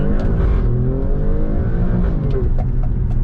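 An Alfa Romeo Stelvio Quadrifoglio accelerating hard, its engine note rising in a loud, sustained roar close by with no talking.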